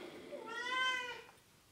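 A single indoor cat gives one drawn-out, rising-then-falling meow, fairly close and clear against quiet background.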